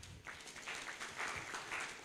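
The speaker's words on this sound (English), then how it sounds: "Can we give him a clap?" Steady applause from an audience fills the room at an enterprise development event, a continuous wash of clapping at moderate level with faint voices mixed in.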